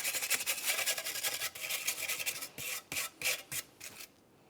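Scrubbing and rasping against the metal mating surfaces of a wheel bearing backing plate on a 2005-2010 Dodge Dakota, in rapid repeated strokes that break into shorter separate bursts toward the end.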